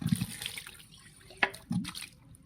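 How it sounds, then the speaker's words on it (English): Lab glassware is rinsed under tap water, giving short splashy bursts of running water with a sharp clink of glass partway through. "So let's rinse that one out and do our second trial."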